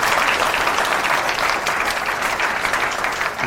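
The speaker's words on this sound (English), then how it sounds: "Go ahead, clap some more" A live audience at a tech talk on ten years of Hadoop applauds steadily, a dense, loud wash of many hands clapping that carries on without a break from start to finish.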